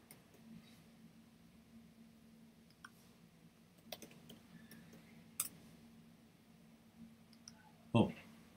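Keys being struck on a computer keyboard at a desk: scattered, faint, irregular clicks and taps with a slightly louder clatter near the end, over low background hum.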